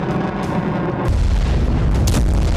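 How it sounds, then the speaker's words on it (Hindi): Loud missile strike explosions in Russian-occupied Luhansk, a heavy continuous rumble that swells into a deeper, stronger boom about a second in, with sharp bursts following. "यूक्रेन ने लुहांस्क पर मिसाइल हमला किया"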